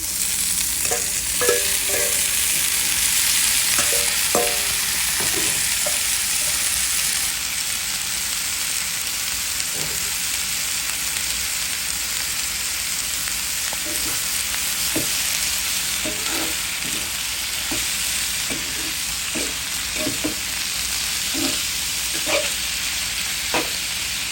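Yardlong beans with a little turmeric frying in a pan, Cox's Bazar hotel-style, a constant hissing sizzle with a louder burst early on and repeated scraping clicks of stirring, no voices.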